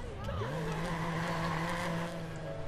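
A stolen car in the video game Watch Dogs drives off with a rising engine whine and tire squeal as it skids, a sliding tonal screech over steady motor noise lasting a couple of seconds.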